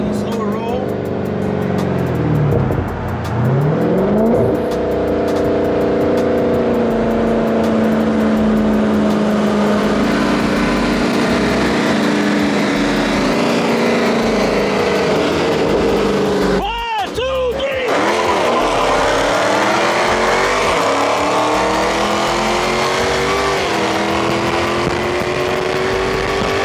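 A Dodge Charger Hellcat roars through a hard acceleration run from a slow roll, engine loud and sustained, with a brief gap partway through before the revving picks up again; voices talk over the engine noise.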